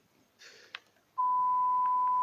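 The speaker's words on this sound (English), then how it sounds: "Why it's beeping like that." A couple of faint clicks and rustles, then a loud, steady electronic beep starts and holds a single high tone to the end.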